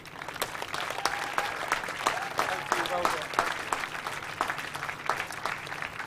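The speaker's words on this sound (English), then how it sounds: "Let's give them another big round of applause." An audience at a local hero awards ceremony applauds, a sustained round of clapping with distinct individual claps over a steady wash, moderately loud in a hall, with some voices mixed in.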